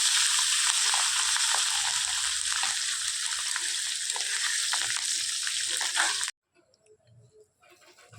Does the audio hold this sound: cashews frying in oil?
yes